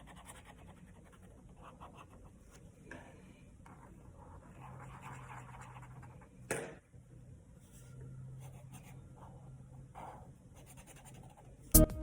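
A marker scribbling green colour onto paper in short scratchy bursts, some longer strokes, close and soft, with a louder tap near the end.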